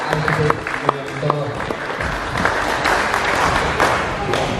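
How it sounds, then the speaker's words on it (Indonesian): Clapping from the gathering for the newly elected chairman at a parish pastoral council election in Tegal Arum. Scattered claps open it while a voice talks over a sound system, then the applause swells into a fuller, steadier burst. "Tepuk tangan untuk Bapak Aristis Yulianto."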